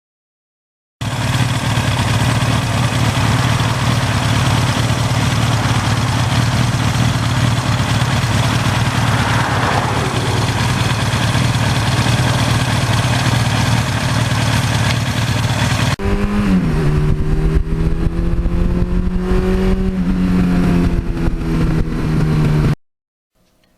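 A 1982 Suzuki GS1100E motorcycle engine runs loudly and steadily at a low rumbling idle, then revs up and down in several rising and falling pulls before cutting off.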